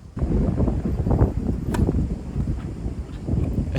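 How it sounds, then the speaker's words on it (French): Strong gust of wind buffeting the microphone on an outdoor tennis court during a training match, a continuous rumbling roar that swells and dips for several seconds. "la grosse bourrasque qui ralentit carrément la balle"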